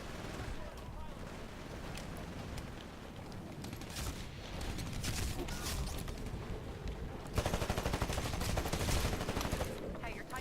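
Gunfire in Titanfall, a dense, continuous crackle of shots and bursts running throughout, loud and busy, with a voice talking underneath at times.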